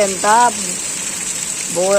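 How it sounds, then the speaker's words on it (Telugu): Heavy midnight rainstorm with lightning pours down in a steady, loud hiss, while a voice talks over it at the start and again at the end. "అర్ధరాత్రి ఇలా వచ్చేసింది చూడండి, పెద్ద వర్షంలాగా వచ్చేసింది"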